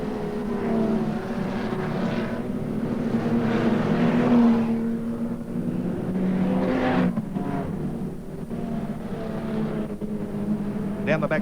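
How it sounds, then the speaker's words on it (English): Saloon cars racing in a qualifying heat of the Brisbane Saloon Car Championship at Archerfield Speedway, engines droning steadily and fairly loud, rising and falling as cars pass. "qualifying race for the Saloon Car Championship of Brisbane"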